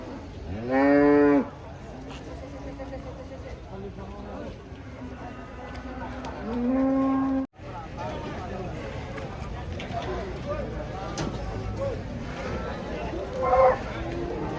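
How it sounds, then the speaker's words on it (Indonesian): Cattle unloading from a truck give loud, drawn-out moos, one near the start and another around the middle, over a continuous bed of voices, movement and background commotion. "Penuh sapi."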